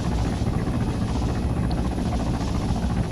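A helicopter flying in the Arma 3 video game, its steady rotor thrum and engine noise loud and continuous throughout, with no talk over it.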